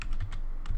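A computer keyboard clacks out a quick burst of about six keystrokes entering a file name, crisp and close with no talking.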